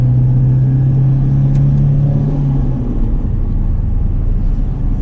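A Volvo 242 GT engine pulls up a steep grade in third gear at about 3,000 rpm, giving a steady, loud, close mid-pitched drone with a strong low hum and no talking.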